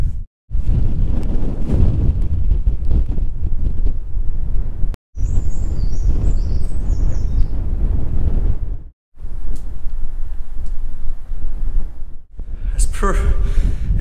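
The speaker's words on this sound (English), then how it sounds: "It's super windy now." Strong wind at the old railway and mining tunnels of Blaenau Ffestiniog buffets the microphone in heavy, continuous gusts with brief drop-outs, roaring low and loud throughout.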